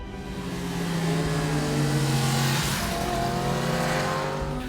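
2017 Yamaha FZ-10 motorcycle ridden on the Tail of the Dragon road in North Carolina, engine revving loudly and sustained with rising and falling pitch as it accelerates through gears, with wind rush over it.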